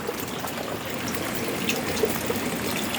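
Water from a mountain source running non-stop through a farm irrigation flow among planted crops, a steady, even trickling wash that stays close and unbroken throughout with no talk over it.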